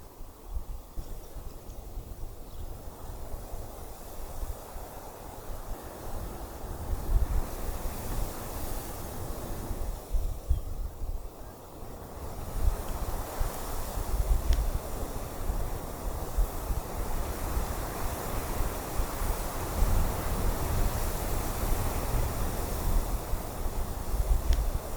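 Strong outdoor wind buffets the microphone in continuous low rumbling gusts, swelling and easing throughout, on a rainy day in Kruger National Park.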